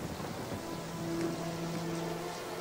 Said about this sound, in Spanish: para sorpresa de todos, comenzó a llover